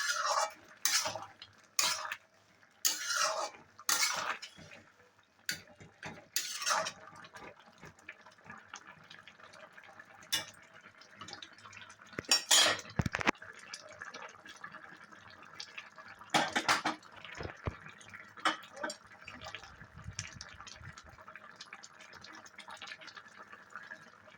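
Shrimp curry being mixed in a pan, bursts of metal utensil scraping and clinking against cookware with quiet gaps in between, close and faint.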